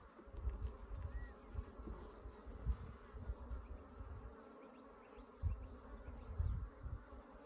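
Africanized hybrid honeybees buzz in an open hive in southern Arizona, a low, continuous drone with soft irregular swells and occasional bumps, fairly faint and without voices.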